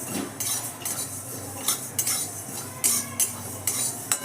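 A metal spoon stirs a tablespoon of cumin and other whole spices dry roasting in a pan, giving sparse scraping clinks and taps against the metal, close by, with a low steady hum underneath.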